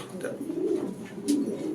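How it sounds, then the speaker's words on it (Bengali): Strong-blooded racing pigeons of foreign breeds coo in a loft, soft low throaty calls repeating close by, with faint background voices. "এইরকমের স্ট্রং ব্লাডের কবুতর আপনারা এই দামে যে ফিরোজ ভাই দিছে"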